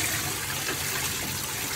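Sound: water draining out of a fish tank

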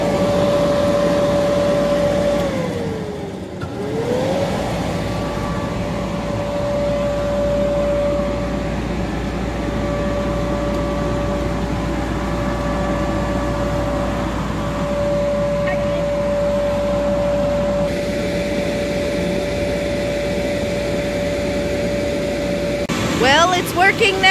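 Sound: inflatable bouncy house blower running

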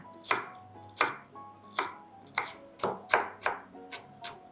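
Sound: chopping coriander root with knife

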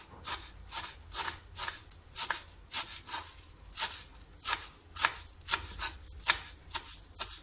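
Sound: chopping vegetables with knife

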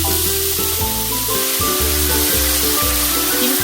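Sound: sliced kimchi frying with ham in oil

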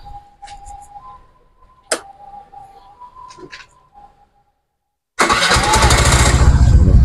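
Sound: Suzuki Burgman motorcycle engine through stainless stock muffler

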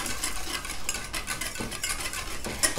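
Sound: stirring a cooling lotion emulsion

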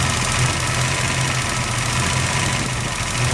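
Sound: truck air conditioning compressor running with engine idling

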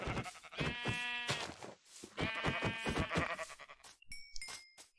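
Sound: sheep bleating in Minecraft video game

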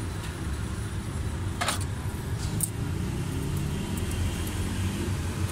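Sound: Suzuki Bolan engine running with loose tappets

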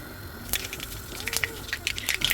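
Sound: mustard seeds spluttering in hot coconut oil

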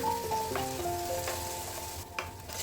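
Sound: stirring prawn biryani masala with turmeric, chilli powder, curd

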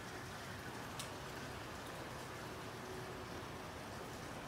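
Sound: rain of ice falling

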